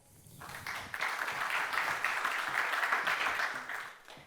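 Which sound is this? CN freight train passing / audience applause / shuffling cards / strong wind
audience applause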